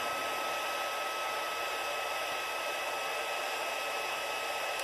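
A heat gun blows a steady, even hiss as it melts embossing powder over white ink, with constant airflow noise and no talking throughout.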